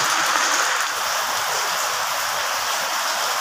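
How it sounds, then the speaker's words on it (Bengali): Heavy rain pours down outside a home kitchen, a dense, steady hiss of water that stays even and loud throughout, with no talking. "আরে প্রচন্ড বৃষ্টি আসছে তো, আমার এখানে জল পড়ে যাচ্ছে তো"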